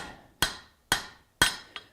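Hammer striking in a workshop, four sharp ringing metallic blows at a steady rhythm, close and loud, each decaying quickly before the next, the last one lighter.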